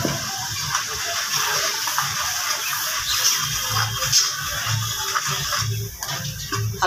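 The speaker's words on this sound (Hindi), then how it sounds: "हल्का सा पानी डाल देते हैं।" Water poured into a cooking pot of spiced potato-and-egg shorba, a steady hissing gush with light bubbling and sizzling.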